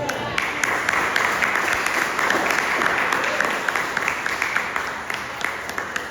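Church congregation clapping during a family celebration service, a continuous wash of many hands with scattered sharper claps, fairly loud throughout.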